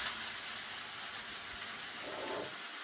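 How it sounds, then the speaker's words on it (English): Vegetables and shiitake mushrooms frying in a pan, a steady, close sizzling hiss that holds evenly throughout and cuts off abruptly at the very end. "I'm going to now add my vegetables and my mushrooms to the frying pan here."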